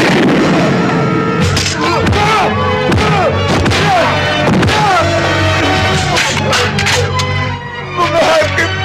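Loud, busy action-scene mix with repeated booming impacts and blasts, sharp thuds scattered throughout, dense and continuous with no pauses.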